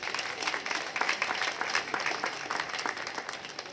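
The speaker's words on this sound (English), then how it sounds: "Please give them a round of applause." An audience at an insurance business event gives a round of applause, many hands clapping in a busy, crackling wash at moderate volume, steady throughout with individual claps popping out of the mass.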